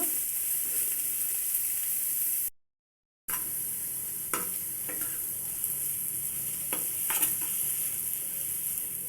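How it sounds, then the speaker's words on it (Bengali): Coriander leaves fry in oil for a mashed coriander dish, a steady bright sizzle with a few scraping stirs and a brief dropout partway through. "পানিটা শুকনো রাখ পর্যন্ত সুন্দর করে ধনে পাতাটা ভেজে নেব"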